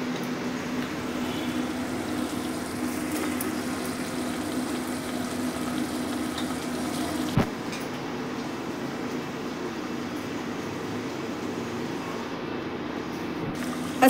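Beans, carrot, kohlrabi and capsicum for vegetable pulao fry in oil, making a steady, even hiss that runs unbroken, with one sharp clink partway through.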